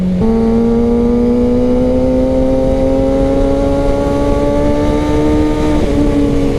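Kawasaki ZX-6R 600cc sport motorcycle engine under way, a loud steady high-pitched whine rising slowly in pitch as it pulls, with a brief gear-shift dip near the end.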